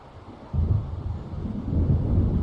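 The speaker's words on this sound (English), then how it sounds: "It seems there's a storm coming." A low, rolling rumble of thunder from an approaching storm in the video game Alan Wake Remastered swells in and builds steadily, dull and heavy with no voices.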